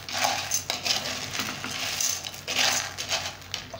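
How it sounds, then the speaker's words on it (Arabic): Macaroni being stirred and turned in a frying pan while it browns, giving a steady scraping and clinking of utensil against pan with a faint sizzle underneath, close and continuous. "هنقلبها بقى لحد ما تحمر"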